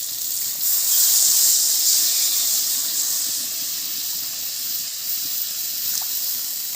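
Water poured into a hot pan of spiced frying potatoes for shol fish curry sends up a loud, steady steam hiss that swells early and then settles into a continuous rush.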